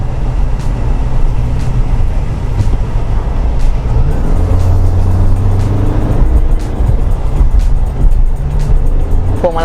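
A pickup truck's engine, the all-new Mitsubishi Triton, roars steadily and loudly as the throttle is pressed during a run against a speedboat, with a rising rev sweep at the end and constant road and wind noise throughout.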